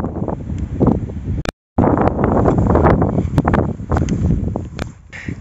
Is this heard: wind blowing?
yes